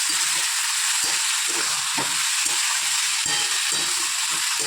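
Four pieces of fish rubbed with salt and turmeric fry in a pan with a continuous close sizzle, broken by occasional soft clatters and stirring knocks.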